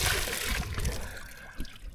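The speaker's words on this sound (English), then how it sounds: "Surrounded by salt water, having a freshwater bath." Fresh water splashes and sloshes in a portable bathtub aboard a dinghy surrounded by sea, a close, continuous rushing wash with soft swirling and dribbling toward the end.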